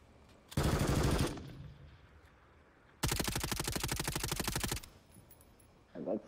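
Automatic gunfire in Call of Duty Warzone comes as two rapid bursts, the second longer and steadier, loud against a quiet background, followed by a brief softer sound at the end.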